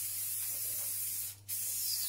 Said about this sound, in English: I'm going to take this, my baking spray, because I don't want the fish to stick on the pan